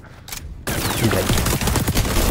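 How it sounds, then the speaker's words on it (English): Rapid gunfire from the online shooter XDefiant, a dense burst of sharp automatic shots that starts abruptly and keeps rattling loudly and steadily to the end, with faint in-game effects beneath. "I just put bullets into him"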